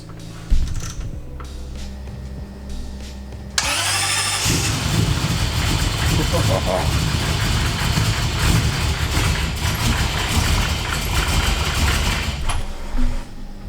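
A turbocharged V8 swapped into a Toyota Supra with a GT47 turbo cranks briefly, then catches and bursts into a loud, rough, aggressive idle with throttle blips that continues until the end, close and unmuffled.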